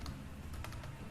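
Quiet, close keystrokes on a computer keyboard, a short run of soft clicks with a few sharper taps.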